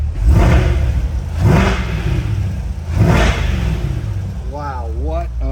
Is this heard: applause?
no